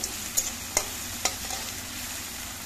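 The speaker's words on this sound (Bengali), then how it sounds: "পেঁয়াজ রসুনটা আর একটু ভাজা হবে।" Onion and garlic fry in a pan, a steady close sizzle broken by several distinct scraping clinks of a spoon stirring, spaced about half a second apart.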